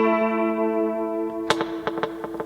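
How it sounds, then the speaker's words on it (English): An electric guitar note played through an echo unit with unevenly spaced heads, sustaining tones followed by a bright plucked note whose repeats cluster irregularly in a triplet-like pattern, close and moderately loud. "if I adjust them here, the echoes start to kind of gather up in the middle."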